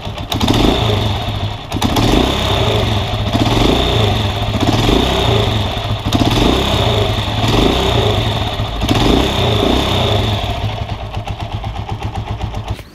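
A Honda TMX155 motorcycle engine runs steadily after a rocker arm and push rod replacement, a loud, close, even idle with a rhythmic mechanical chug that holds throughout before easing at the end.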